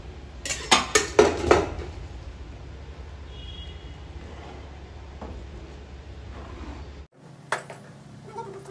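A spoon clinks and scrapes against a metal vessel in a quick cluster of strokes while mango pickle is mixed, then a long quiet stretch with low background hum and a couple of faint knocks near the end.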